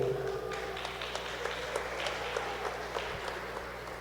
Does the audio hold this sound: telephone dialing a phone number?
no